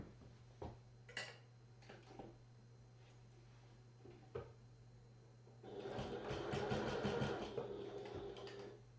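A sewing machine runs a steady, rapid stitch along the bottom seam of a duffel backpack for about three seconds, after a few scattered clicks and light handling taps in a quiet room.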